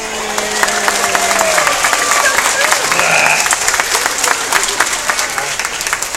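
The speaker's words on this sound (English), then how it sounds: "What do you mean you want some applause?" A crowd applauding steadily at a bear show, dense continuous clapping from many hands throughout, loud and close, with a voice speaking over it.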